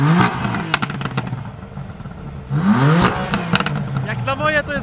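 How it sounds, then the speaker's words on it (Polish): A tuned 890 HP BMW M5 exhaust revs hard at a measuring spot, with sharp rising and falling sweeps and crackles, close and loud, mixed with people talking. "Jesteśmy teraz w najlepszym możliwym miejscu do sprawdzenia głośności wydechu."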